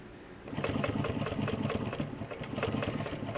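A Juki walking foot sewing machine stitches car upholstery material in a steady run of rapid, even needle strokes. The motor sits close and fairly loud, with no talking over it.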